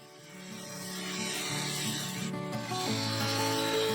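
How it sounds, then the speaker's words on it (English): A gouge cutting down into the base of a segmented ash bowl on a wood lathe, a steady rising rubbing hum with a droning tone, close and fairly quiet. "Using the gouge to cut down into the base"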